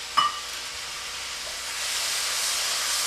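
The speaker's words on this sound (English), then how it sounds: "Now, all of this is going to just saute up together." Tomatoes and other vegetables sautéing together in a pot for chicken and sausage jambalaya, a steady bright sizzle that builds slightly after a brief clink near the start, with no speech.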